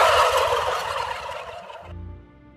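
A turkey gobbles in a loud rapid warbling burst that fades, then a shorter gobble follows, with no speech.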